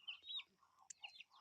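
Backyard chickens clucking and calling close by in a short, uneven burst of soft clucks and chirpy notes, with no talking.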